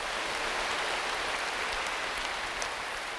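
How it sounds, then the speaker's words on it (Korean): A church congregation claps together in a large hall, a dense, even wash of applause that stays steady and moderately loud throughout. "우리 주님께 박수 함께"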